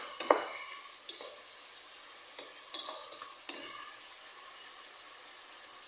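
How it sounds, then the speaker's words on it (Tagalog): Tinola ingredients sautéing in fish sauce in a hot pan: a steady, close sizzle with a few soft scraping stirs, no talking. "Ginigisa po natin siya sa patis."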